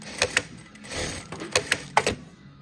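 A Durkopp Adler industrial sewing machine stitches in short, close bursts of sharp mechanical clatter with brief pauses between them, with no talking.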